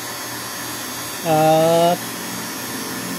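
A vacuum pump evacuates the sealed refrigerant system of an LG two-door inverter refrigerator, running as a steady close mechanical drone with a brief louder tonal whine partway through over the constant hum.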